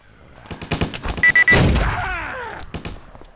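Gunfire in the zombie video game Stubbs the Zombie: a quick run of sharp shots gives way to a heavy blast, then a drawn-out groaning, echoing tail that fades out. Loud and close, with no talking.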